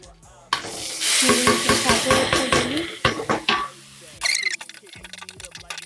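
Leafy greens with garlic and chilli frying in oil in a pan, a loud sizzle with rapid repeated stirring and spatula clatter, then sharper pan and utensil knocks as the greens are moved out, with a voice speaking briefly.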